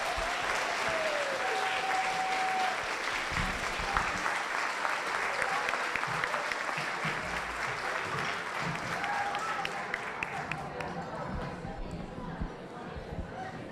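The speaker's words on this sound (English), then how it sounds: "Give them a big round of applause." An audience at a reunion luncheon breaks into sustained applause, a steady wash of clapping that carries on for several seconds and gradually thins out toward the end, with faint chatter underneath.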